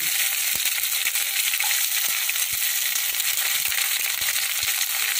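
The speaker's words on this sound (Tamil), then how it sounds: "நல்லா வறந்துடுச்சு வெங்காயத்தை போட்டுடலாம்" Onions fry in a pan for a capsicum gravy, a constant crackling sizzle with scattered sharp pops and light clicks of spatter, moderately loud and close, no talking.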